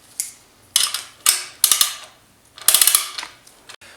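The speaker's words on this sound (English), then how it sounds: "it's all about just trying to tighten the clamp down evenly and maintain a nice even" A ratcheting clamp is tightened in short rounds of quick clicking, four or five bursts separated by pauses, close and crisp with no voices.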